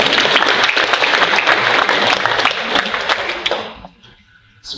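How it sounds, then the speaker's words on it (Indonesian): Audience applause at a formal ceremony in Kalimantan, loud dense clapping from a crowd that holds steady, then thins and fades out over the last second. "Tepuk tangan untuk beliau."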